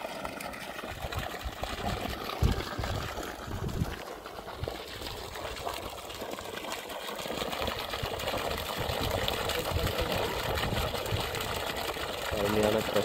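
A 3000W BLDC borewell motor pump in Dharmapuri runs steadily from a 780 ft, 50mm bore, sending water gushing and splashing in a continuous close rush, with someone talking over it throughout.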